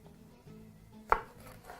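A single sharp knife cut goes through the center of a chili pepper and strikes the cutting board with a crisp thud. The kitchen is otherwise quiet and no one speaks.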